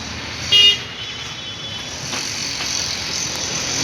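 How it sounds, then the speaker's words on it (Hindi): Busy road traffic on a crowded street, with a steady wash of passing cars and engines and one short, sharp horn toot early on, all fairly close and continuous. "गाड़ी बहुत चल रही, भीड़।"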